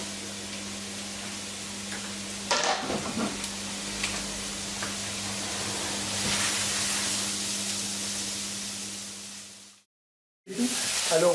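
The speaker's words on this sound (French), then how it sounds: "Je vais faire suer mes oignons" Onions sweating with lardons in a pan, a soft steady sizzle with a few stirring scrapes, close but gentle, cutting out briefly near the end before resuming.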